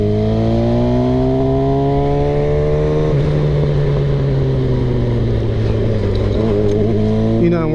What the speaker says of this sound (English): we're putting the motorcycle through her paces today